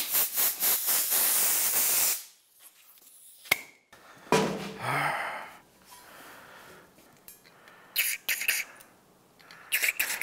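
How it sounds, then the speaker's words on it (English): Yamalube brake and contact cleaner sprayed onto motorcycle exhaust parts from an aerosol can: a loud, close hissing burst for about two seconds, then shorter spray bursts and faint handling noises. "For this, I'm just using the standard brake and contact cleaner from Yamalube."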